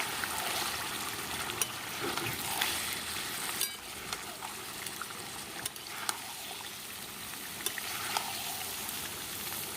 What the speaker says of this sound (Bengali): খাসির মাংসটা দিয়ে দিচ্ছি। ভালো করে নেড়ে নেব।